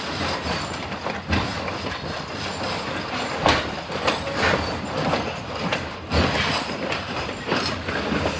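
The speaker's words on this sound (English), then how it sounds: "As our train begins to exit Strasburg Yard" A Strasburg Rail Road passenger train pulls out of the yard, with steady rolling clickety-clack, rumbling wagons, occasional sharp wheel squeals and clanks heard from inside the car.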